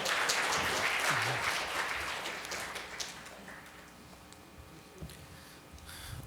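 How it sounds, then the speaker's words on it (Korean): A conference audience applauds at the close of a session. Full, dense clapping starts loud and gradually thins and fades over the following seconds, leaving only scattered claps at the end. "다시 한번 큰 박수 부탁드리겠습니다"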